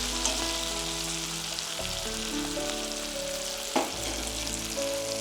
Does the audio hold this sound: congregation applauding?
no